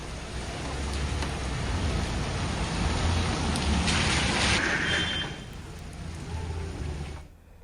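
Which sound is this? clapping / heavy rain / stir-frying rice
heavy rain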